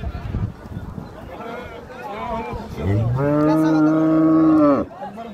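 A cow gives one long, loud moo lasting about two seconds, close up, after a stretch of background talk and commotion at a cattle market selling Friesian and crossbred cows with calves.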